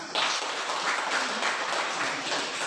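Students in a classroom applaud briefly, a short, even burst of clapping that begins abruptly and stays fairly loud and uniform for a couple of seconds.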